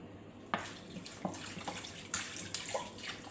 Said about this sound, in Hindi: 2 गिलास पानी हमने इसमें शामिल कर दिया।